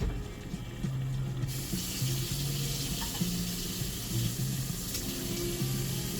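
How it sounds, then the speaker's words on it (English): Steady rush of water pouring into a pot, a continuous hissing splash that stays even throughout, with no voices. "That's a lot of water at once."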